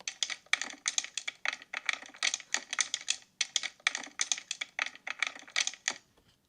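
Kid Pix rock painting sound effect from the children's computer software, played on a 2008 MacBook: a rapid, steady run of sharp clacking clicks in short bursts, like stones knocking, continuing for several seconds with no talk.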